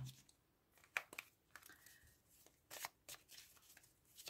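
Tarot cards, a deck of major arcana, shuffled and riffled in a quiet room, with bursts of papery flicks and card snaps scattered irregularly across the span.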